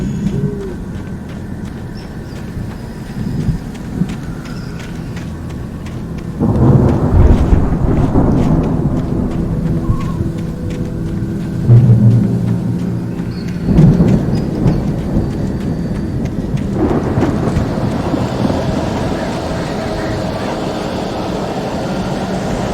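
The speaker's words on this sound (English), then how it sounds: "The storm raged on as the Anderson brothers walked unsteadily." A thunderstorm in the video game Alan Wake, with steady heavy rain hissing throughout and several deep rolling thunder cracks building and fading over the scene, with no one talking.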